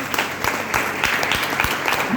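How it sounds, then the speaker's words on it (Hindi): Crowd at a company presentation event breaking into loud, dense applause, a continuous patter of many hands clapping nearby, with a few voices underneath. "जोरदार तालियां।"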